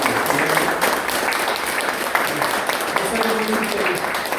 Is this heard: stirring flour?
no